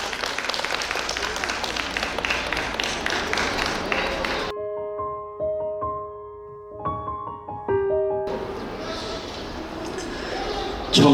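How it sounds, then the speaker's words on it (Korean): At a spring poetry recital an audience breaks into dense, sustained applause, which gives way to sparse tones and a short pause before clapping and crowd noise swell again. "박수로 맞아주시기 바랍니다."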